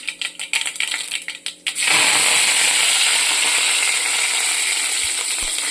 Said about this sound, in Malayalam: കരിയാപ്പിലയും കൂടി ഇട്ട് കൊടുക്കുകയാണ്.